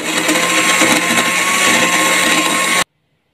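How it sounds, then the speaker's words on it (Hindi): A kitchen blender grinds dry nuts with honey for a milkshake, a loud steady whirring roar running alone for nearly three seconds before cutting off abruptly into silence. "अब बंद कर दिया, ढक्कन लगा दिया जग का, अब करूँगी ग्राइंड।"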